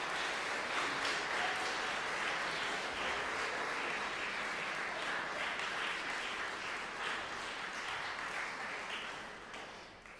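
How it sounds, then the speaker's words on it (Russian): Concert audience applause in a college hall, a dense even wash of clapping heard from some distance, holding steady for several seconds before easing slightly at the end. "Под аплодисменты"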